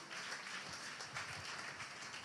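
A church congregation claps together, a dense, steady wash of handclaps with a faint rhythmic pulse that holds at even loudness throughout.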